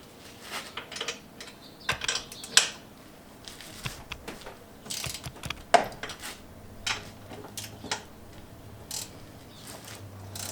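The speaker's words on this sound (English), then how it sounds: "I'm going to go ahead and remove the lug nuts." Quiet, scattered metallic clicks, ratcheting and clinks sound up close as lug nuts come off a 2016 Polaris Sportsman 570 Touring ATV wheel, arriving in irregular short bursts.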